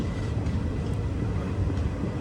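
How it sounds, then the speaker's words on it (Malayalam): Pune Superfast train pulling into platform 1 at Mangaluru Junction railway station, a loud, close, steady rumble of rolling wagons with no voices. "മംഗളൂരു ജംഗ്ഷൻ റെയിൽവേ സ്റ്റേഷൻ്റെ 1-ാം നമ്പർ പ്ലാറ്റ്ഫോമിലേക്ക് ഇതാ നമ്മുടെ പൂനെ സൂപ്പർഫാസ്റ്റ് എത്തിക്കൊണ്ടിരിക്കുകയാണ്."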